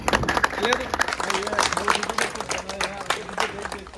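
Applause from a crowd at a meet-up, steady dense clapping running throughout while voices talk over it.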